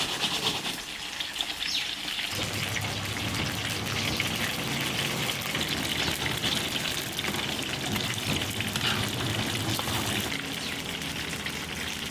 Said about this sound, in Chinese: 小火慢慢炸。